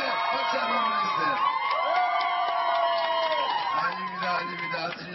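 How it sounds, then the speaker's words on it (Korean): A crowd at a Democratic Party political rally in Jeju cheers and shouts together, loud and sustained over several seconds, with mixed voices whooping and a few claps rising then tapering off at the end. "대한민국에서 가장 잘한다 이렇게 생각하는데 박수 한번 보내주세요"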